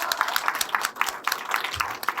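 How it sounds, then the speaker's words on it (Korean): A small audience at a mental health lecture in Korea applauds to welcome the speaker, a brisk patter of scattered handclaps close to the microphone, briefly dipping before picking back up. "흔쾌히 해주셔가지고 많이 박수 부탁드립니다"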